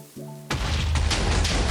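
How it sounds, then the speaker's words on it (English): A loud booming explosion from a realistic explosions mod in Minecraft, a short tonal cue followed by a sudden deep blast that keeps rumbling and crackling with repeated bursts to the end. "I'm just gonna show you what the explosions do, because this is really cool"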